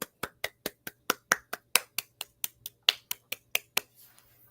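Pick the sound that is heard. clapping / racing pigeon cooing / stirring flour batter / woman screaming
clapping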